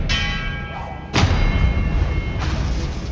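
A spell cast in the video game Hogwarts Legacy bursts in as a sudden magical impact, a loud thud-like whoosh with a bright ringing shimmer that lingers, followed by a second softer swell of game effects.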